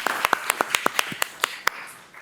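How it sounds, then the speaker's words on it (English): Scattered applause for Rivera High School graduates at a school board meeting: a dozen or so sharp, close claps in an uneven rhythm from a few people, thinning out toward the end. "So we can give it a round of applause for Rivera."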